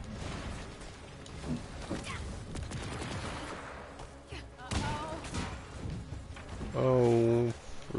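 Turret gunfire in Marvel's Avengers, a steady rattle of rapid shots and thuds running throughout under game noise, with a voice speaking over it.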